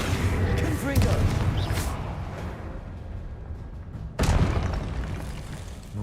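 Spell blasts in Hogwarts Legacy, including the Confringo fire spell, a loud booming explosion followed by rumbling, then a second sharp burst, with a voice speaking over the action.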